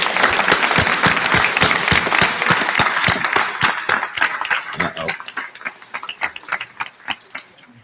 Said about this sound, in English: Please join me in applauding these very fine scholars from Canada's leading hospitality program.